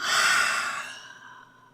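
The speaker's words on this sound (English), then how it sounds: "Open the mouth to exhale." A single soft, breathy exhale through the open mouth during a prenatal yoga class, close and clear, fading out gradually over a second and a half.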